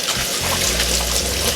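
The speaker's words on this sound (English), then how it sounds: "I'm going to quickly wash the plantain before I cut them" Plantains rinsed under cold running water from a tap, a steady close splashing trickle heard alone without talk.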